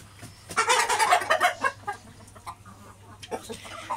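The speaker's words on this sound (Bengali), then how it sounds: "আমি আমার মুরগিগুলোকে খাবার আর পানি দিয়ে দিয়েছি" Hens on a small home poultry farm cluck in a busy burst right after being fed and watered on a hot midday, then fall to scattered softer clucks.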